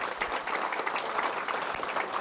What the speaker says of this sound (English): Now you can give them a round of applause.